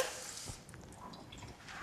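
A little water is poured into a mixture, giving a brief splash and trickle near the start that gives way to soft, faint liquid drips.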